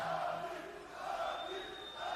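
Loud crowd noise at the final press conference for the Khabib versus McGregor fight, a sustained roar of shouting and chanting from a large audience, steady throughout with a rising whistle-like tone.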